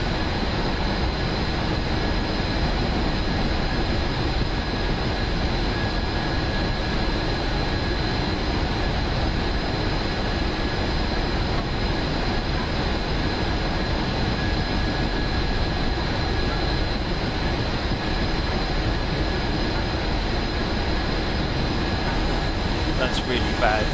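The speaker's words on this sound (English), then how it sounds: "so I'm going to get the dynamic brakes wound up." Dynamic brakes hum and whine steadily on a Union Pacific gas turbine locomotive hauling a train over Sherman Hill in Train Simulator 2016. A constant loud drone with a sustained tonal whine continues throughout without a break.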